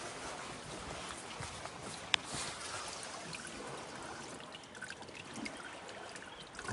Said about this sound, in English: you can see it dripping off the rocks down here.